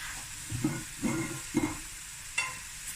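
Half a teaspoon of fennel seeds hitting a hot pan, a few short bursts of crackling sizzle and stirring scrapes at roughly half-second intervals over a faint steady hiss.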